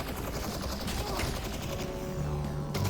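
Combine Pulse SMG fire in the VR game Half-Life Alyx, dense rapid bursts of synthetic gunfire that stay steady and fairly loud for about three seconds, with a voice speaking over them.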